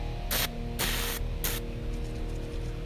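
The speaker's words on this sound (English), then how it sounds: "but I'm going to use some penetrating oil" Penetrating oil sprayed onto the tines of a Honda Harmony mini tiller: three short hissing bursts, the middle one longest, over a steady low hum, then quiet background.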